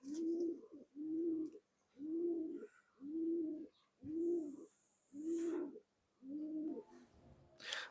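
Old-breed Khulna pigeons, yellow-eyed and black-headed, coo in a loft in a slow, regular series of deep, close coos separated by short pauses, with a brief higher chirp near the end.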